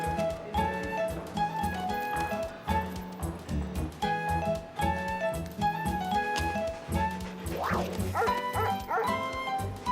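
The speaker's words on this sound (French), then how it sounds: "qu'est-ce qu'il fait ici, ce chien?" A cartoon fire-station dog in a French children's animated show yips and barks repeatedly over lively background music, close and loud.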